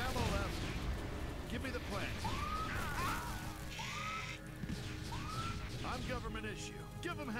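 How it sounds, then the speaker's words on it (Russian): Explosions and gunfire-like blasts in the strategy video game Universe at War: Earth Assault, repeated bursts and rumbling over continuous game sound, with someone talking over the action. "Так они взрываются."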